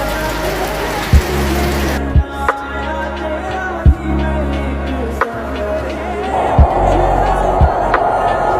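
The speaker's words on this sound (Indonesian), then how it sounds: "Tapi hari ini hujan." Rain falls steadily on an Indonesian street, a dense even hiss with a few sharp knocks and thumps scattered throughout, loud and close.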